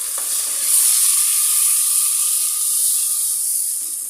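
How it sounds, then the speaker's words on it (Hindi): Two medium-size roughly chopped tomatoes drop into frying garlic and ginger, setting off a loud, steady sizzle and hiss of steam from the pan, with no one talking. "लहसुन अदरक की बुनाई करने के बाद इसमें डाल देंगे 2 मीडियम साइज़ के टमाटर"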